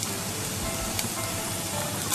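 Chopped onion sizzling in a hot pan while being stirred, a dense continuous crackle like steady rain that holds evenly throughout.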